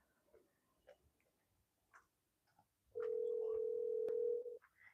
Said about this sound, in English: She has a distinctive ringtone.